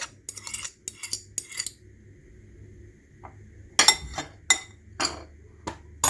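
A spoon clinks and scrapes against a bowl while stirring a mayonnaise and egg mixture, sharp bursts of clatter separated by quiet pauses, close up with no voices.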